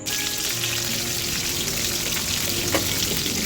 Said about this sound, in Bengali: এখন তেলের মধ্যে একটু ভাজা ভাজা করে নিব।